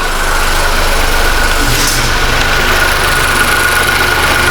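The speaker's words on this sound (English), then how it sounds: "As you can see, the engine started right up." The engine of a 2020 Ford Escape idles steadily right after starting, a loud, even hum close by with no talking over it.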